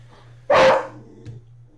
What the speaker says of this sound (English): The dogs are going at it.